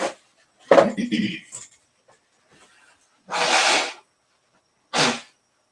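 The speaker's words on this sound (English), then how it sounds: "Pardon me while I do a little nose blowing." Two forceful bursts of nose blowing by someone with a runny nose, one longer and one short, follow a few quiet murmured words, close to the microphone.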